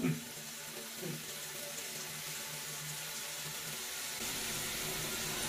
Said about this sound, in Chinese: 等它那个水满了看一下